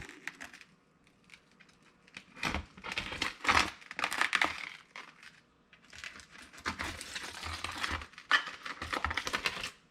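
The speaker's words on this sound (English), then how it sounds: "Then you get your knife in there, really thin razor blade, and you cut the glue." Thin razor blade slicing through glue holding the door glass of a Buick, heard as irregular scraping, crinkling and clicking bursts close up, with short pauses between strokes.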